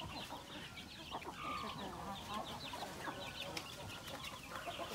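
Native chickens cluck and call repeatedly at a moderate distance, with overlapping hen vocalizations over a steady farmyard background.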